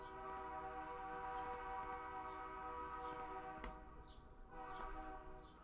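A train and its horn from the Game Boy Advance game Lizzie McGuire: On To Go!. A faint, steady electronic horn tone is held over ticking rail clatter, dipping briefly midway before sounding again.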